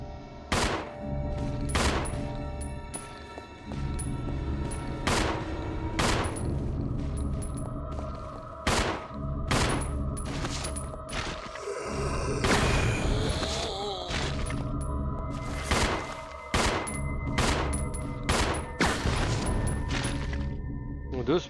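Gunfire in the video game Resident Evil Zero: repeated sharp shots in an irregular sequence, some close together, with a crashing burst midway over a rumbling game background.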